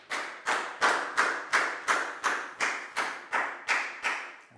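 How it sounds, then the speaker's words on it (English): A classroom of pupils claps for a classmate in a primary English lesson, about a dozen crisp, evenly spaced claps in a steady rhythm, fairly close and with no talking. "Big round of applause for Lakgao,"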